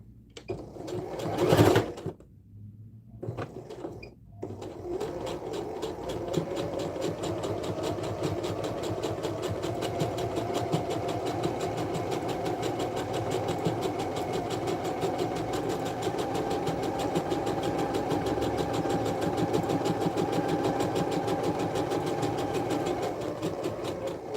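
A sewing machine stitches a tote bag near a zipper head: a few brief knocks and clicks, then steady, continuous mechanical whirring and rapid needle chatter, close and fairly loud, with no voices.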